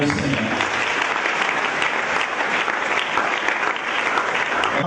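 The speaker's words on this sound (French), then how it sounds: "Acclamons le Seigneur." A church congregation bursts into sustained, dense applause, loud and steady throughout, filling the hall without pause.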